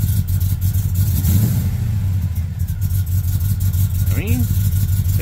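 A car engine with a check engine light on idles loud and close with a rough, uneven low rumble. A brief rising whine comes near the end, and no voices talk over it.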